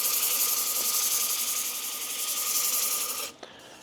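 Steady wet sanding on a cherry wood bowl spinning on a lathe, a continuous close rasping hiss that stops abruptly near the end.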